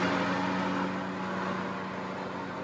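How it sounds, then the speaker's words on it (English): Lawnmower engine running outdoors, a steady loud drone with a constant low hum, filling the whole moment without any break or voice. "Wasn't expecting the lawnmower. Sorry."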